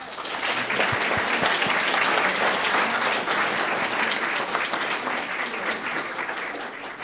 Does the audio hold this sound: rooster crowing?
no